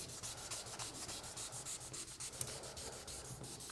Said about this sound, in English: So it's just a lot of repetitive sanding.